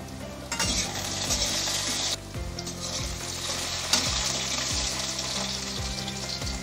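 Potatoes frying in a pan for a ridge gourd and mung dal dish, a constant close sizzle with several clattering knocks and scrapes of a spatula stirring, no one speaking.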